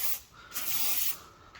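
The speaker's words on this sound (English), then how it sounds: "we're just literally just spraying it on the car." Aerosol can of Bilt Hamber rust prevention sprayed onto a car body in close, hissing bursts: a short spray, a longer sustained blast, then a brief final puff.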